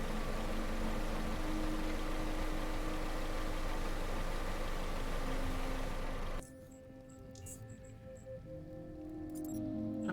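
A steady mechanical whirring hum from the video game Underrail drones at a constant level, then drops sharply to a quieter background hum with faint clicks partway through.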